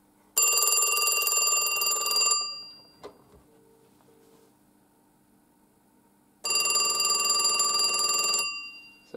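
A 1978 Western Electric Mickey Mouse telephone bell, set softer, rings in two separate bursts a few seconds apart, each rattling for about two seconds before decaying, with faint clicks between.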